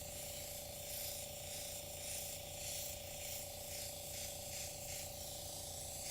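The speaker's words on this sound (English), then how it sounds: "Let's spray it out just a little bit, make sure my purple's gone." Continuous hiss of an airbrush spraying purple and blue paint close up, with a faint steady mechanical hum beneath and slight pulsing in the spray.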